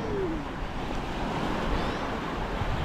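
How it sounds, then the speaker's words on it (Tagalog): Steady wind rushing over a shoreline, with constant surf-like noise and no clear pauses. "Oh, sarap ng hangin, medyo malamig."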